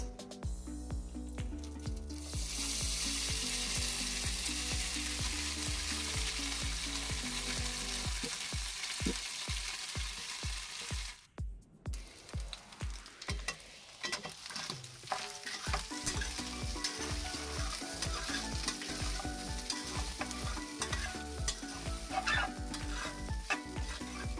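Small pieces of boiled goat blood frying in a pan, with a steady loud sizzle and repeated scraping stirs that turn into rhythmic clattering strokes partway through.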